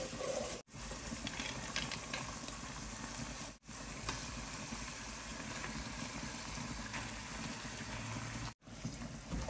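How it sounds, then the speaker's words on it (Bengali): Minced meat keema sautéing in spiced masala in a pan, a steady close sizzle and fry hiss broken by a few short pauses, with no talking. "এখন হচ্ছে কিমাটা ভালোভাবে কষিয়ে নিব।"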